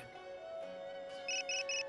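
A phone rings in the Tales of Xillia 2 video game, with three quick bright chiming pulses near the end over a soft sustained musical tone.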